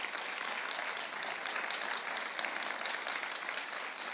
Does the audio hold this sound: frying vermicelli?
no